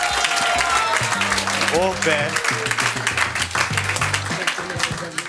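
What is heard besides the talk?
audience applause at a quiz night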